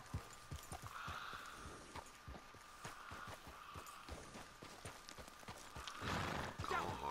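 A horse gallops in Red Dead Redemption 2, its hooves thudding in a rapid, regular rhythm at close range and running steadily from start to finish.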